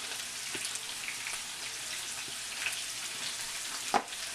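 Shrimp frying in a pan, a steady sizzle throughout with a few soft stirring scrapes and one sharper clack near the end.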